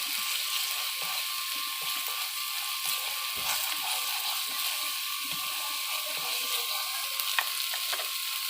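Spices with turmeric powder sizzle in a hot pan while cooking, a steady, even frying hiss that runs throughout with no talking.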